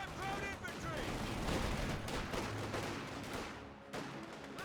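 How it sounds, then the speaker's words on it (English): Browning machine gun fire in the video game Company of Heroes 2, dense bursts of automatic gunfire amid battle noise under a commentator's talk. "I hear that Browning."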